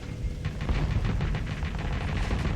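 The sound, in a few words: spaceship weapons fire in video game Starsector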